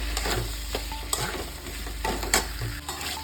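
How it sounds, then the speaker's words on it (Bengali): Potatoes sautéed in spiced oil for a raw banana dalna, with a steady sizzle under repeated scraping stirs from a spoon in the pan, close and fairly loud. "এরপর আমি আলুগুলো দিয়েছি, আলুগুলো ভালোভাবে কষিয়ে নেবো আস্তে আস্তে।"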